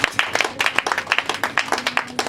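Rhythmic group applause fills a church funeral service for an elderly woman, many hands clapping in a steady quick beat, loud and close.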